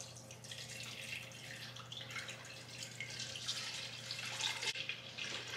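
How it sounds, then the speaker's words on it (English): Four litres of milk pour from a container into a pot for homemade cheese, a soft continuous liquid rush and splash, fairly quiet and steady without speech. "samo da izlijete ovo mlijeko u ovu posudu"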